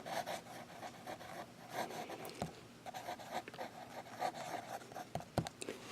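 Lamy Safari fountain pen nib moving across paper, a quiet close scratching and swishing in short strokes with brief pauses and a couple of soft taps.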